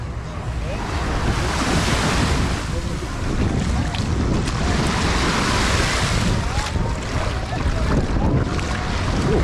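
Ocean waves roll and wash continuously onto a Caribbean beach in Cancun, loud and close, with gusty wind buffeting the microphone.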